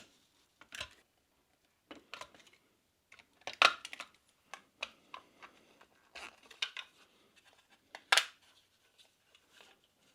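Plastic housing of a Maxx Air fan being cut to make a square hole, sharp intermittent snips and cracks with scrapes between them, close and fairly quiet, with pauses in between.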